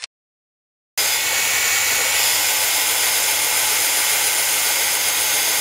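A power drill with a flat spade bit bores into wood, starting abruptly after a moment of silence and holding a loud, steady, rushing whine throughout.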